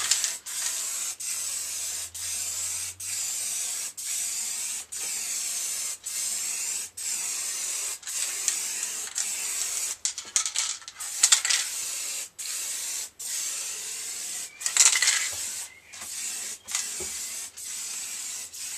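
Aerosol spray paint can, warmed under a tap, laying a final coat on Harley-Davidson XL883 Iron motorcycle parts in a home garage: repeated close hissing bursts separated by brief pauses, with no talking.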